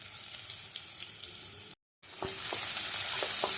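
Jackfruit seeds and coconut pieces fry in oil with a close, steady sizzle that breaks off briefly, then returns louder and brighter, marked by a few light clicks of a utensil against the pan.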